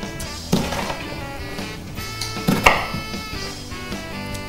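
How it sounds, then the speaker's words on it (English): A sharp kitchen knife chops through sliced ingredients on a board while making chilli con carne, with two distinct knocking chops about two seconds apart over quiet background noise. "Then you just start chopping through the bits you've sliced in the opposite direction."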